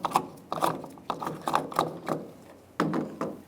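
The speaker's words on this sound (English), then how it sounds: "We're going to take the gas cap off." Gas cap twisted off the fuel filler on a 1999-2006 Chevrolet Silverado, a run of close, dry ratcheting clicks in quick bursts with brief pauses between turns, no talking.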